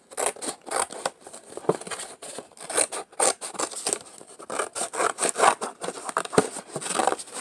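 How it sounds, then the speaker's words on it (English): Scissors snip repeatedly through cardboard as box shapes are cut out, quick close cutting strokes with scraping and rustling between them, no voices. "I'm just cutting the whole thing out so that it makes it easier when I'm cutting them out and the rest of the cardboard's not in the way"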